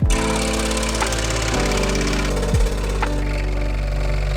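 A power saw cuts a circle from a wood piece at home, its motor buzzing loudly and evenly up close, the pitch dipping briefly a few times as the blade bites into the wood.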